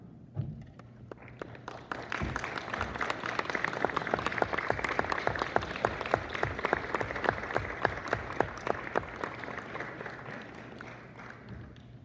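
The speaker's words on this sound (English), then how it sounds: "All members of JAG applaud." JAG members applaud their families at an initiation and installation ceremony, a long stretch of crisp, sustained clapping from a sizeable group that swells, holds steady, then thins out near the end.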